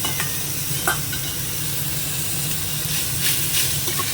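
Garlic, black cumin and boiled elephant foot yam leaves frying in a pan, a steady close sizzle with a few soft stirring scrapes and clicks.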